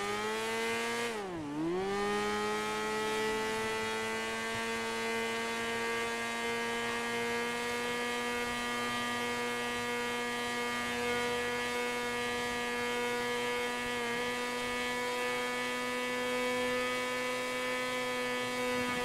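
A new 2023 Honda CBR motorcycle accelerating on a track gives a loud, steady, high-pitched engine whine that dips sharply once near the start, then holds a sustained drone throughout.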